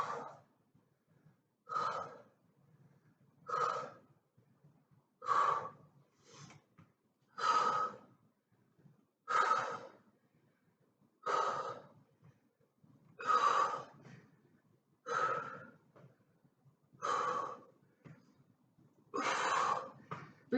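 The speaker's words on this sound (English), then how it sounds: "Breathing out as you come up, in as you go down." Heavy rhythmic breathing during an exercise workout, about a dozen strong exhales and inhales spaced roughly every one to two seconds, close and clear with no speech.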